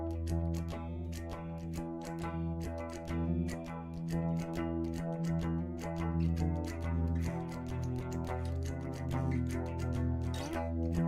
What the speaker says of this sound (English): This crazy jet phaser